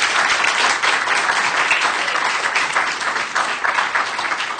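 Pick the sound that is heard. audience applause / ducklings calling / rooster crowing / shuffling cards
audience applause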